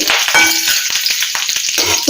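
Curry leaves dropped into hot tempering oil crackle and spit loudly up close, a burst of fierce sizzling with rapid sharp pops for a couple of seconds.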